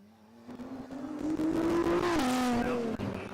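A stock Honda NSX races around an uphill hairpin on a hill-climb course, its engine note climbing steadily as it accelerates, then briefly dipping and rising again at a shift, loud and fairly close with no talk.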